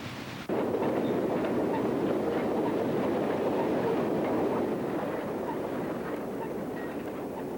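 Two Chesapeake and Ohio steam locomotives, a K3A and a K3 Mikado, double-heading a train near Richmond in 1951, producing a loud, steady rumble and roar of the passing train that holds at an even level throughout.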